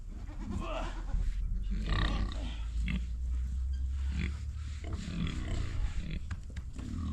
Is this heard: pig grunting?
yes